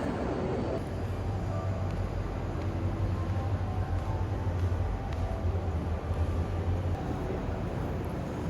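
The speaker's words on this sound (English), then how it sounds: "I'm just curious to experience this bullet train here in Korea." Interior of a South Korean bullet train in motion, with a constant low rumble and steady rolling noise that holds at an even level throughout.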